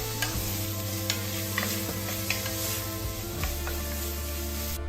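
Onions fry in a pan after beef has been browned for boeuf bourguignon, giving a steady close sizzle broken by repeated scraping stirs and an electrical hum beneath, with no talking.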